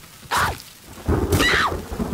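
Rain and thunder in a video game roll in as two loud rumbling bursts, one early and one longer near the end, over a soft wash of rainfall.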